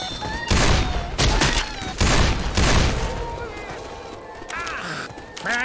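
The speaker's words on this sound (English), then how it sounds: "Why are you shooting me?" Gunfire inside the zombie shooter game Left 4 Dead 2, with bursts of loud rapid shots and weapon blasts mixed with in-game character shouts and effects, and the firing easing off toward the end.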